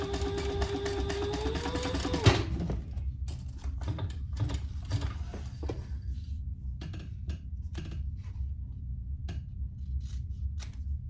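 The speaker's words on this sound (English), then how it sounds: "I have 2 pieces of binding that were shorter than I wanted, so I'm just putting them on a crisscross here. And I'm gonna sew them together." A sewing machine stitches two crisscrossed pieces of quilt binding together, a steady mechanical whir for the first two seconds, followed by scattered clicks and light handling taps over a low hum.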